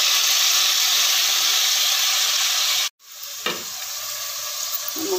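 Onions and masala frying in a pan, a loud steady sizzle that cuts off abruptly partway through, then returns quieter with a brief scrape and soft stirring.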